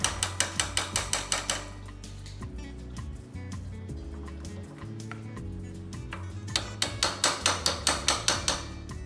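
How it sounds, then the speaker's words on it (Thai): Rapid bursts of sharp metallic hammer strikes knocking out a brake lever on a Honda Dream 125 motorcycle, about ten quick blows at the start and again near the end, with a lower mechanical clatter and hum between. "เราอาจจะได้ใช้ค้อนหน่อยนะครับ เพื่อตอกให้มันออกมาได้ง่ายขึ้นนะครับ"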